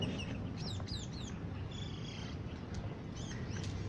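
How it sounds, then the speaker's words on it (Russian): Small birds twitter and chirp in short, high repeated calls along a street in Pattaya, Thailand, moderately near, over a steady wash of traffic and street noise. "Птички щебечут."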